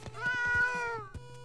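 A pet cat named Mittens meows in a long drawn-out cry, preceded and followed by short soft taps and chirps, close and clear with no talking.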